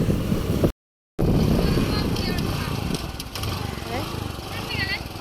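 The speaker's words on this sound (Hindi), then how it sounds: "तो हम अभी बाइक पे जा रहे हैं" Steady engine drone from a motorbike being ridden along a village road, continuous and close with wind rush, briefly cut out near the start, with voices talking over it.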